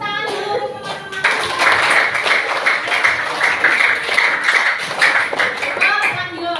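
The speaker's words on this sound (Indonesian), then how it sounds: "tepuk tangan dulu teman-teman" Teachers clap together in a room at a coaching and academic supervision session, a dense patter of many hands that starts abruptly and keeps up steadily for several seconds, with voices mixed in beneath it.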